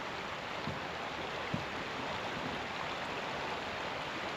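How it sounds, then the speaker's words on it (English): A stream runs along a hiking trail, a steady, soft wash of flowing water with faint splashes, heard alone without voices. "And the running water as you sit and listen to is really relaxing."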